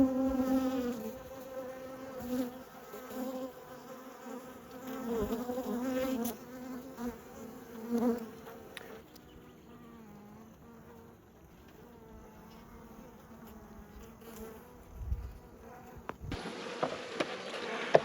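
Honeybees buzz at the brood frames during a hive inspection, a dense, wavering drone close by, rising and falling with occasional handling knocks.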